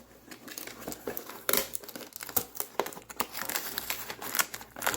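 Tape is pulled and torn off the bottom of a cardboard box holding a kids' Oset 12.5 e-bike, making close, irregular crinkling and ripping noises in short bursts.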